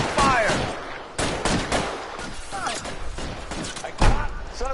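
Gunfire in a shootout in the video game L.A. Noire, with loud repeated bursts and single cracks across several seconds under shouted voices.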